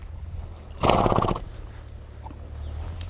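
A horse being hand walked to cool off after lunge line work gives a short, loud whinny partway through, set against quiet ambient background.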